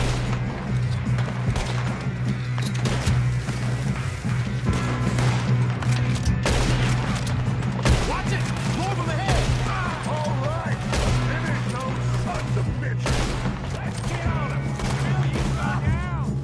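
Gunfire rattles through a shootout in Red Dead Redemption 2, with repeated sharp shots over a steady low drone, while voices call out in the middle of the action.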